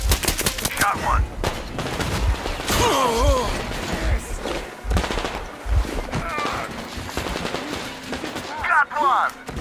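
Rapid gunfire bursts and single shots from the video game Metro Exodus, loud and close, repeating across the scene with voices shouting over the combat.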